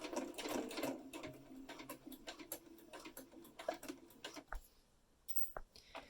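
Close up, a sewing machine stitches a neckband onto a garment in quick bursts of rapid mechanical whirring and ticking, pausing briefly between runs, then a few isolated clicks as stitching stops.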